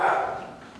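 A single short dog bark, close and fairly loud, fading quickly.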